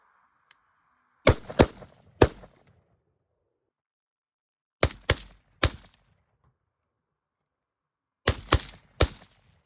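Gunshots from a Mozambique shooting drill ring out in three quick groups of three sharp, loud reports, with silence between the groups and a brief faint tone just before the first.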